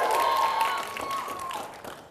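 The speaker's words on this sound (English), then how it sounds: "I think I got a cheer from everyone out there" A live audience cheers and applauds in a hall, a brief wash of clapping and crowd noise that fades out over a couple of seconds.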